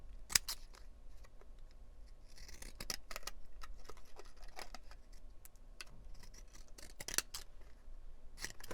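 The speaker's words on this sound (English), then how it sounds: "we'll cut it with our decollage scissors. These ones are made by Fiskars" Fiskars decollage decorative scissors cutting through paper, a series of crisp, close snips and clicks spaced irregularly over a quiet background, with a few louder, sharper cuts.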